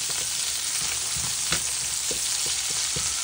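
Vegetables sizzle steadily in a hot frying pan while a utensil stirs them, giving scattered soft scrapes and taps over a constant close hiss with no talking.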